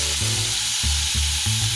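Shrimp slid into a hot cast iron skillet, with a steady loud sizzle of frying that pulses in waves every half second or so, close and without talk.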